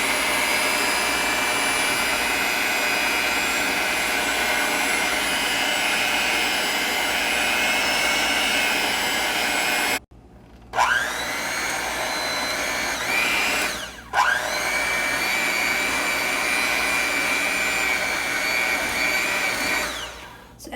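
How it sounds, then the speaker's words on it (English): Brownie batter worked with an electric mixer, a loud continuous motor whir that cuts off briefly twice and then starts up again. "Now I'm going to gently mix the batter."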